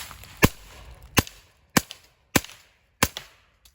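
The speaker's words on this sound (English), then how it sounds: "Shooting 147 grain subsonic flat nose Remington Omega 36." Five sharp, suppressed-sounding shots from an AR-9 carbine with a 1-inch buffer, firing 147-grain subsonic flat-nose Remington rounds, spaced about half a second apart, each a close crack with a short tail, with no talking.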